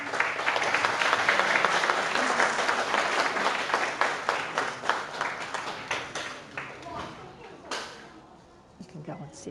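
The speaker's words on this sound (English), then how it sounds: "Please give a round of applause." Audience applause at a school award presentation for graduates, a thick crowd of clapping that thins into scattered individual claps and fades near the end, with a voice briefly heard over it.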